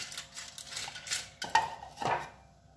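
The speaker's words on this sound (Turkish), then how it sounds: "Bunu iyice karıştıralım." A spoon clinks and scrapes around a bowl of powdered sugar and lemon juice sauce, a few distinct stirring strokes close by.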